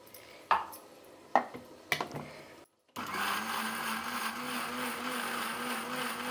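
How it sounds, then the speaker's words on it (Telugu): A kitchen mixer grinder blends a paste with a little added water: a few short bursts and clicks, a brief pause, then a loud continuous whirring motor run close by. "దీనికి కొద్దిగా నీళ్ళు వేసుకొని మెత్తగా పేస్ట్ లాగా మిక్సీ పెట్టేయాలి"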